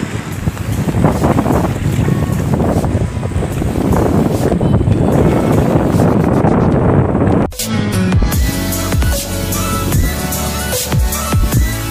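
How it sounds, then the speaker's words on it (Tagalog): Strong northeast monsoon wind buffets the microphone on a shore-casting spot at Cataingan, Masbate, roaring loudly and continuously with surf beneath, then drops abruptly to a quieter, gustier stretch. "Lakas pa ng amihan."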